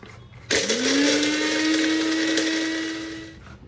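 Mixer grinder whirring loudly as it powders dry ginger and rock sugar, a steady high motor whine that starts abruptly, runs about three seconds, then cuts off.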